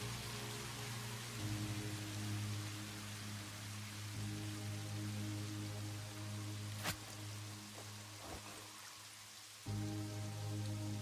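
Soft steady rainfall hisses across the whole stretch in the game Satisfactory, layered with low machine hum and a couple of brief sharp ticks, fading back near the end.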